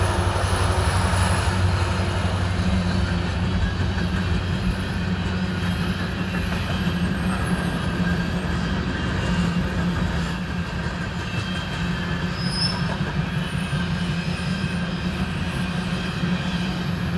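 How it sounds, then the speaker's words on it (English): A BNSF freight train rolls past at Milford, Nebraska, a steady, loud rumble of wheels and cars that holds evenly throughout, with a brief bump in level partway through and no voices. "let's hightail it back to Milford and see if we can get one more train"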